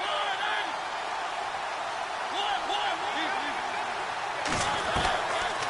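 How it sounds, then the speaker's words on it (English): A football stadium crowd roars before a big third down, a dense steady wash of cheering with a few whoops rising above it. A commentator talks over the noise. "The crowd getting into it as we come up on a big third down."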